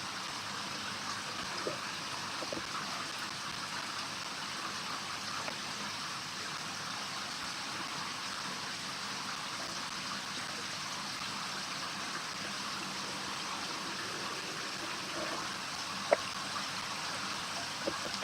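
Water sprays steadily from a shower over a koi pond, a constant soft hiss and splash heard close by with no pauses.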